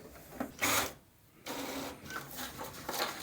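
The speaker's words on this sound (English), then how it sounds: "make sure that these settings are okay and press the print button" A Brother MFC-J1360DW inkjet printer feeding and printing a page, with quiet mechanical whirs, clicks and shuttling pulses spread over a few seconds at close range, no talk.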